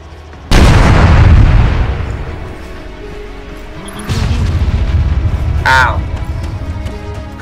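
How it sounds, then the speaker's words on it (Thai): In the ARMA 3 video game, a loud explosion booms suddenly and rolls off, followed a few seconds later by a second blast with crackling debris and a brief whistling tone. "มันจะระเบิดไปแล้วฮะ"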